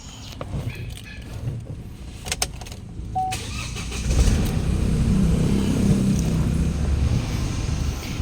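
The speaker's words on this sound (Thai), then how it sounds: "เดี๋ยวผมสตาร์ทเครื่องก่อนนะครับ" A Chevrolet Colorado 2.5 pickup with a six-speed manual cranks and fires up about halfway through, after some quiet clicks and handling noises. It then settles into a loud, steady, close engine rumble.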